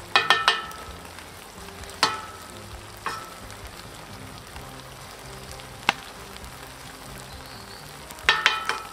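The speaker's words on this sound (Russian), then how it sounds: "Вот так вот немного перемешиваем рис." A spoon or spatula stirs rice into frying beef plov in a hot pot, a low sizzle throughout broken by a few sharp scrapes and knocks against the metal.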